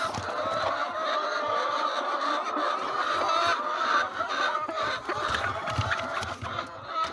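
Laying hens crowd poultry laying boxes on an egg farm, clucking and squawking continuously in a dense, close chorus with rustling and shuffling underneath, no talk.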